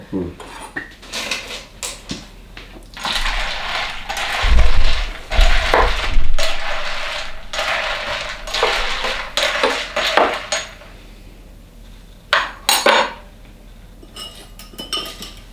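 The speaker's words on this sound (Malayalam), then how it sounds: "നമുക്ക് കുറച്ച് ഐസ് ഇടാം." Ice cubes drop into a glass for a vodka Blue Lagoon cocktail with lemonade and a lemon garnish, giving clattering clinks and knocks against glass, loud at times, in bursts separated by quieter gaps.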